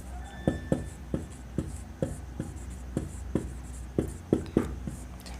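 Chalk or marker strikes and scrapes on a board during a physics lesson on units and measurement, a series of sharp taps and short strokes in irregular rhythm, close by, with a teacher's voice faintly underneath.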